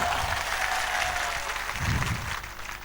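An audience claps at a devotional jagran event honoring Sonana Khetlaji, a dense, steady burst of applause lasting a few seconds before tapering slightly.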